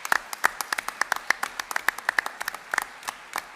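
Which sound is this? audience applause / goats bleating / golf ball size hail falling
audience applause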